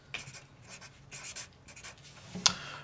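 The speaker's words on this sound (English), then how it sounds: "I'm just going to write the negative 1 outside since it's a constant." Pen or marker writing out a calculus equation on a board during a math lesson on trig integrals, with short scratchy strokes in bursts across the clip and a sharper tap near the end, close and fairly quiet.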